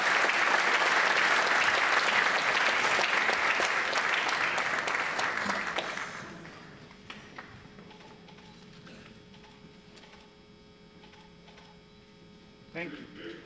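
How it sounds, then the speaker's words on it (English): An audience at a scholarship foundation ceremony applauds steadily for about six seconds, then the clapping fades to a few scattered claps over a low electrical hum. "Please give them a round of applause."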